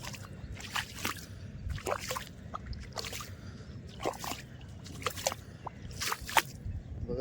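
Feet squelch and slosh through deep, wet mud at the water's edge while fishing for killifish, in a series of soft, irregular sucking steps with drips, fairly close and moderately quiet.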